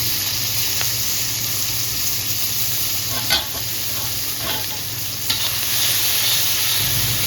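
Tomato pieces, ginger-garlic paste and curry leaves sizzle steadily in a pan for a drumstick fry, with a hiss that holds throughout and a few brief stirring clinks near the middle.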